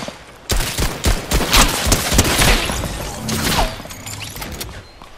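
Rapid bursts of gunfire in Fortnite, loud and close, with overlapping shots and a few heavier thumps rolling through a busy battle for about five seconds.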